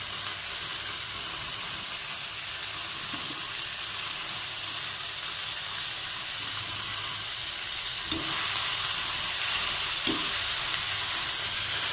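Tomato and cabbage fry in a pan for a potato cabbage kurma, a steady close sizzle with stirring scrapes that grows slightly louder toward the end.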